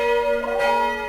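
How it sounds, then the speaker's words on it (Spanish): A church bell rings in Salzburg in an outdoor field recording, a single sustained, resonant toll with rich overtones, decaying slowly and fairly loud. "quería traeros sonidos de campanas de iglesia"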